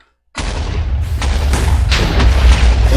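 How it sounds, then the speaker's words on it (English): A deep booming explosion in a Minecraft-style blocky game bursts in after a moment of silence, loud and close, followed by a sustained rumbling roar with further crackling blasts layered over it. "He's going to explode."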